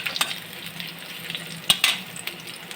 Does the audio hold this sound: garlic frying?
yes